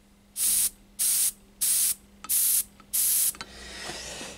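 Five short, even bursts of compressed air from an airbrush gun hiss out in a steady rhythm, each lasting about a third of a second, followed by a fainter lingering hiss.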